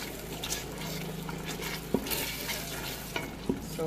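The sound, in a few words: frying egusi in oil with pepper and seasoning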